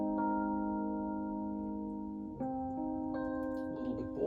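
Rhodes electric piano played dry without insert effects: a soft sustained chord ringing with clean, bell-like tones, then two further chord changes, quiet and close, with no talking.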